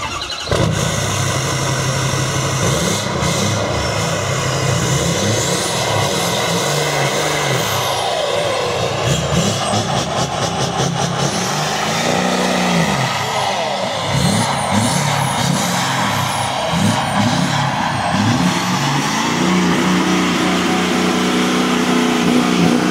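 A monster Power Wagon truck engine revs loudly and continuously up close, a deep rumbling roar that swells and falls in repeated surges throughout.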